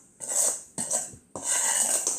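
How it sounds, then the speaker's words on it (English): Dog bread mixture is stirred in a bowl, giving three distinct scraping swishes of a spoon against the bowl, each lasting about half a second, close and fairly loud. "Give it a stir again."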